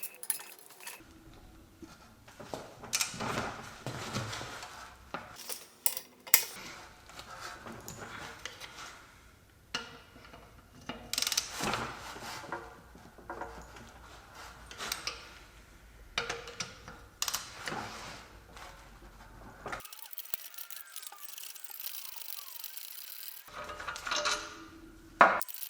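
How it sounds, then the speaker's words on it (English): Metal tools clink and knock while a wheel hub is worked loose from the vertical link on a Jaguar S-Type front suspension with a 15 mm hex bolt. Scattered close taps and rattles come in bursts with quiet gaps. "I will now try to detach the wheel hub from the vertical link."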